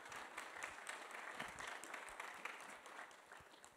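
Applause at a hospital inauguration: a broad, steady patter of many people clapping, soft and distant, continuing evenly with scattered sharper claps and no speech.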